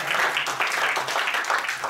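A church young adults' congregation applauds in a steady, moderate burst of many hands clapping, fairly close and without talk.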